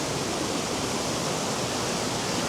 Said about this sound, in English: the power and the volume of water that's coming down that compared to the last time I was here is absolutely unbelievable